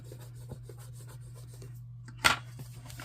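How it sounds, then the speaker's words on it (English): A short rubbing and scraping as a sticker is burnished down onto a planner page, soft and close over a steady low hum, ending in one brighter scrape. "let's burnish that down."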